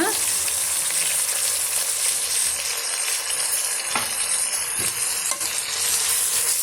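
Tomatoes, mint and coriander leaves sautéing in ginger garlic paste for a vegetable salna, a loud, dense, steady sizzle close up with a few faint stirring knocks.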